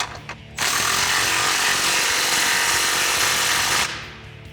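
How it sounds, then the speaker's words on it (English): A power tool drives a 15 mm socket to tighten exhaust clamps on a 2017-2022 Ford Super Duty 6.2L, one loud continuous rattling whir for about three seconds, close up. "now you're going to want to take your 15 millimeter and tighten all your clamps"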